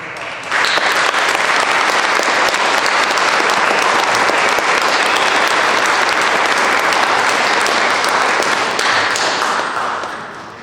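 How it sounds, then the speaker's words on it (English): A crowd gives a warm round of applause for military inductees at a high school signing ceremony, loud sustained clapping that rises quickly, holds for about ten seconds, then tapers off. "give these inductees a warm round of applause"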